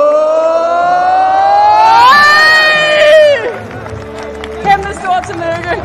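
A large crowd at a Danish creator football match lets out a long rising collective shout that swells loud, then breaks into scattered cheering, whoops and claps; voices sound throughout.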